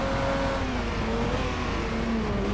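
Ford Mustang V8 race car engine in the video game GT Legends, a steady droning engine note with slowly shifting pitch, continuous and fairly loud, as another car runs close by.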